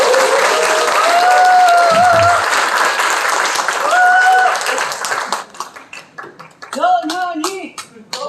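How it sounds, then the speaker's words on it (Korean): An indoor audience at a political party labor committee launch event bursts into sustained applause and clapping to welcome a speaker, loud and dense, thinning out toward the end as the crowd begins chanting. "큰 박수로 모십니다."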